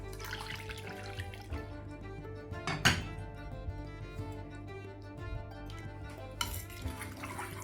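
Strained jaggery syrup poured into a fenugreek mixture, a steady soft trickle and stir with a clink of a utensil against the pot midway and a brief splash near the end.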